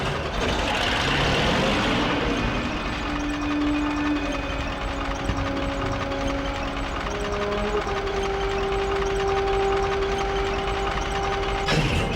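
A T-34 tank engine from Call of Duty: Finest Hour, a steady, loud, heavy rumbling drone that runs unbroken throughout, with whining tonal layers rising and shifting over it.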